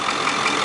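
A Ford F350 6.4-litre diesel engine from a 2009 truck running steadily, a close, loud, continuous rumble with no pauses and no voices.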